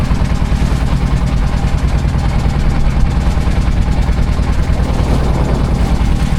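A boat engine on the rough Pasur river drones loud and steady at close range, a constant low rumble with wind and water noise over the whole stretch and no clear voices.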